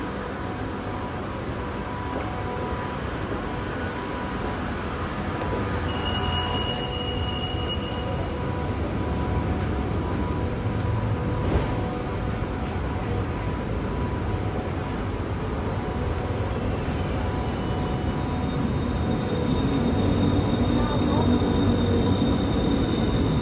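A train pulls into Bang Wa railway station in Thailand with a steady, close, continuous rumble and roar, broken by faint high tones.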